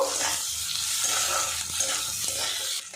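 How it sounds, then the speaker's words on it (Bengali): Potatoes and lightly browned onions fry together in a pan with a loud, close, steady sizzle and hiss, under constant stirring and scraping. "পেঁয়াজটা আমি এখানে হালকা করে ভেজেছি তার সাথে আলুটা ভেজে নেব"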